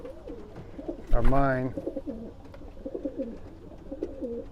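Pigeons coo in a soft, repeated, throaty rhythm close by, broken once by a louder flutter and call. A voice talks briefly over them.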